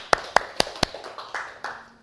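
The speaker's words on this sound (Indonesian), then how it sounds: "Tepuk tangan untuk Mbak Vivi" A few separate, sharp hand claps in a classroom microteaching session, about four close and crisp, then fainter scattered claps trailing off.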